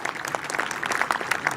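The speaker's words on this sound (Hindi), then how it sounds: "अब कार्यक्रम का आयोजन करने वालों के लिए एक बार जोरदार तालियां" A brief burst of lively clapping from an audience at an International Yoga Day programme at Uma Public School in Greater Noida, with many quick, close claps at an even level.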